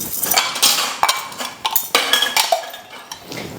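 Pots, pans and dishes being scrubbed and washed, with repeated clinks and clatters of metal utensils knocking together at close range, irregular and busy throughout, no talking.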